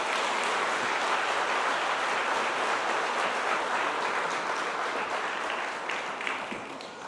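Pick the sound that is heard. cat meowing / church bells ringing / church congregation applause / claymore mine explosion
church congregation applause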